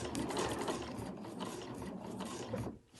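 A sewing machine runs steadily, stitching a fabric sewing machine cover with a fast, even mechanical clatter that is close and fairly quiet, then stops abruptly near the end.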